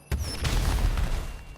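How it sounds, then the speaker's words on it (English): A firework launcher fires in a snowy holiday video game, opening with a sudden loud boom followed by a rolling, crackling burst of explosions that gradually fades. "Firework launcher."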